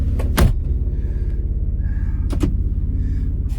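A Jeep door slams shut over a steady engine idle, one sharp thud near the half-second mark, with a second softer knock later and faint whirring in between.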